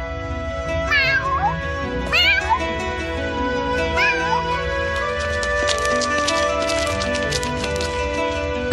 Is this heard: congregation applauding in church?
no